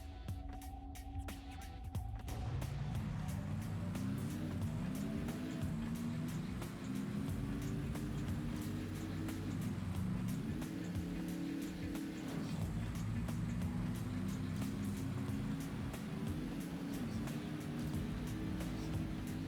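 Race car in TrackMania United Forever, a game engine whine that starts after a short lead-in and rises and falls in pitch repeatedly as the car accelerates and brakes through turns, steady and fairly quiet.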